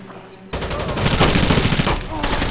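Rapid automatic gunfire in Rainbow Six Vegas 2, opening after a brief quiet moment and then a loud, dense burst of shots sustained close by for about two seconds, with voices faintly mixed in.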